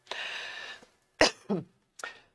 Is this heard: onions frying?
no